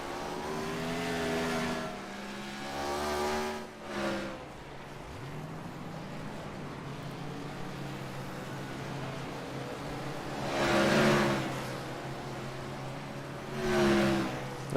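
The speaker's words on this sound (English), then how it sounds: "You're just going to do some burnouts for that last win." A race car doing burnouts at North Wilkesboro Speedway, engine revving in rising and falling surges heard from a distance, with a steady rumble between the louder bursts.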